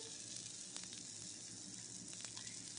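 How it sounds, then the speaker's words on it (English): A steady, quiet sizzling hiss of food frying in an air fryer, with faint crackles and pops over a constant fan-like drone. "You can hear them frying."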